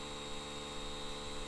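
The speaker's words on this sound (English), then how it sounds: "So he connects all the tyres to one compressor." Tyre inflator compressor feeding several tyres at once, a steady low mechanical drone and hum running continuously at moderate loudness with no talk.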